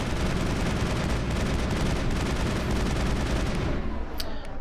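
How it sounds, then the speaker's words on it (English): Dense, continuous shotgun and weapon fire from the PC game Mass Effect 1 roars loudly in rapid overlapping blasts, then cuts off near the end, leaving a couple of sharp clicks. "Oh, and by the way, Rex, totally forgot you were still using a shotgun from last time."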